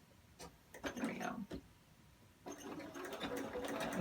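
A sewing machine threaded with black thread makes short, uneven bursts of mechanical whirring and clicking, quiet and close, with pauses between them.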